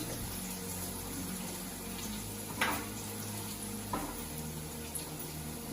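Onions frying in a pan for chicken biryani give a soft, steady sizzle at low level, with a couple of faint clinks over the continuous hiss.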